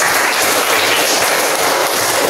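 Broadband, steady clapping from a class of students applauding in a school physical education session, dense and continuous throughout with no gaps.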